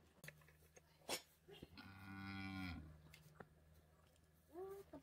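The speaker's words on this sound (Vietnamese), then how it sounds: "Con bò kìa." A cow lets out one long, loud moo nearby on a farm near its shed, a sustained harmonic low call lasting under a second, with scattered thumps around it and a short vocal sound at the end.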